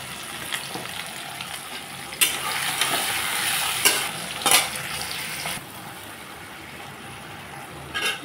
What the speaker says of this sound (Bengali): এখন আমি ভালো করে কষিয়ে নেব মশলাটাকে।